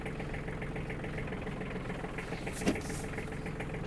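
The small engine of an Iseki TG-29 Japanese mini tractor runs steadily with a rough, chugging rumble as it drives off, holding an even idle-like pace throughout with a brief louder clunk midway.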